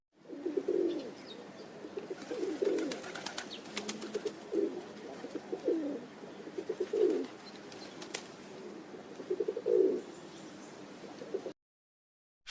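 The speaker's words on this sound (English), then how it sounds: "Pigeon." Pigeon cooing in repeated soft, low rounded phrases, several separate calls spaced a second or two apart, fairly close, with faint background chirps and no talking.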